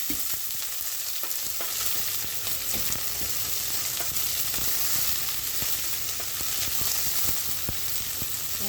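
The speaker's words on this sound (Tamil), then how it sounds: "இது ஓரளவுக்கு வெங்காயம் வதங்கினா போதும்" Chopped onion and garlic sautéing in a pan for beetroot greens rice, a steady close sizzle with scattered sharp crackles and occasional spoon scrapes throughout.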